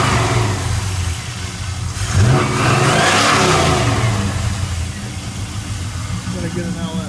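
A 2000 LS engine runs with a steady, throaty idle, then revs up sharply around the two-second mark and holds a loud, sustained roar before easing back. A voice can be heard in the background.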